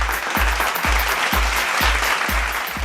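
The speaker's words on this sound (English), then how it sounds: "A big round of applause for Ajay ji." Loud crowd applause at a stage event, a dense continuous roar of clapping hands with a steady rhythmic low thump pulsing beneath it, as if music plays along.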